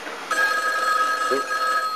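A telephone rings in a home kitchen while chopped liver is being made, giving a steady, bright electronic trill that starts abruptly and continues close and fairly loud, with a faint voice murmur partway through.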